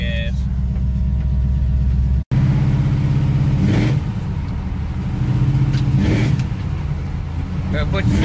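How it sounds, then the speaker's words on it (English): A 1992 Chevy Silverado with a swapped 5.3 LS V8 rumbles along a road, heard from inside the cab as a steady low drone that rises with throttle at times. People talk over the engine noise. "I reckon I'll take him for a little ride down the road real quick"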